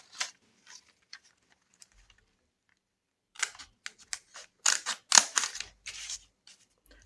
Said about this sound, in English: And also cut around the edges here just to make it straight and even and to make it fold easier.